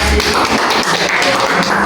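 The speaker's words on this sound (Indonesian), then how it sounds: "Silakan tepuk tangan." Students in a classroom clap together for a photosynthesis presentation, a dense, close burst of many overlapping hand claps that stays loud and even throughout.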